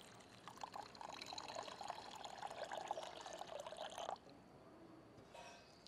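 Water pours steadily into a container with lemon juice and sugar for about four seconds, then stops, leaving a faint trickle and quiet room sound.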